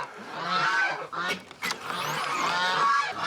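Farm geese honk and scream in a dense, continuous chorus, loud and close, with overlapping calls and only a brief dip in the middle.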